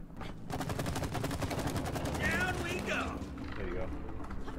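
Rapid bursts of automatic gunfire from shooting in the video game It Takes Two rattle steadily, with quieter game effects and a player's voice mixed in.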